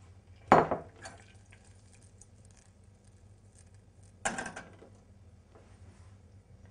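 Metal madeleine baking trays being handled in a kitchen, producing two distinct clattering clanks several seconds apart with a faint rattle between them in a quiet room.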